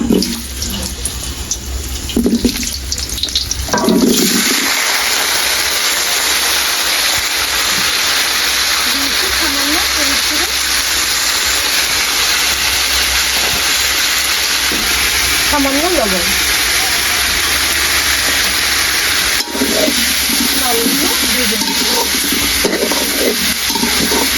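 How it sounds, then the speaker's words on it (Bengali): Halved potatoes drop into hot oil for chicken kacchi biryani and sizzle loudly and steadily at close range, with a brief burst of clatter at the start and a few faint sounds in the background. "তেল গরম হয়ে গেছে এখন আলুগুলো দিয়ে দিব"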